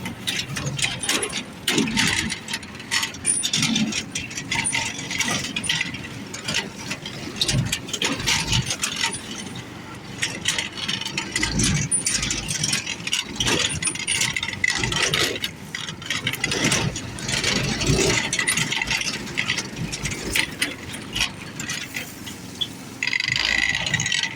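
A small engine idles after a pull-start recoil repair, a continuous close mechanical rattle and chug with uneven pulsing that runs throughout, loud and alone.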